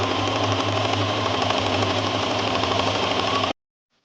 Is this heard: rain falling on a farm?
no